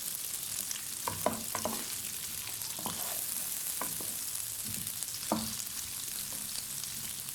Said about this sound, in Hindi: अब हम इसके अंदर कटा हुआ प्याज और कटी हुई शिमला मिर्च ऐड करेंगे। 3 से 4 मिनट तक हम इसको भी सौते करेंगे।